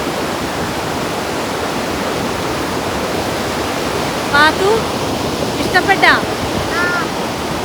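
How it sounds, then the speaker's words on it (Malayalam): Great Falls waterfall in New Jersey roars as a broad, steady rush of powerful falling water, with a voice and a few chirpy vocal sounds rising briefly over it near the end. "എന്ത് ശക്തിയിലാണെന്ന് പറഞ്ഞാൽ വെള്ളം പോണേ"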